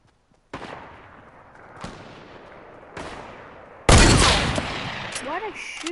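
Video game gunfire: three spaced, echoing shots, then a much louder, sustained burst of blasts with rattling debris, close and heavy.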